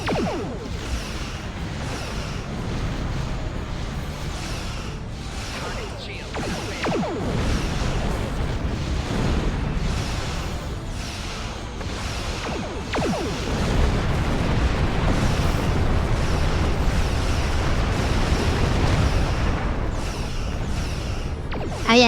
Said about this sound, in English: If you're near an explosion of a ship, you take damage.